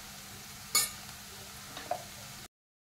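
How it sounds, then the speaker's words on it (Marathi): Chopped onion dropped into hot oil for tempering, giving a low steady sizzle with a sharp clatter as it lands and a couple of light stirring clicks before it cuts off. "आता आपण त्यामध्ये कांदा टाकणार आहे। तेलामध्ये चांगला परतून घ्यायचा आहे।"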